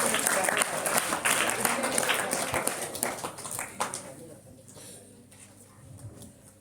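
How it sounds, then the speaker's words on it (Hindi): Audience applause welcoming a distinguished guest at a village assembly event at a school in West Singhbhum, a dense burst of clapping that is loud at first and gradually thins and fades over several seconds. "जोरदार तालियों से हमारे अतिथि का स्वागत एवं अभिनंदन किया जाए।"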